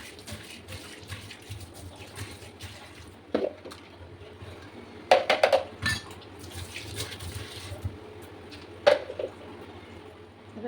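Dishes, pots and cutlery clatter and clink intermittently in a kitchen during cleanup, with a few sharper knocks over a soft background of running tap water.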